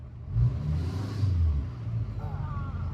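A deleted-emissions L5P Duramax diesel pickup idles and revs with a deep low rumble, swelling once then settling, heard from nearby with people talking in the background.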